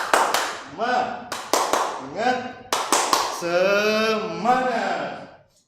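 A classroom does a spirited rhythmic clapping chant, sharp bursts of claps in patterned groups alternating with a voice calling out, close and loud.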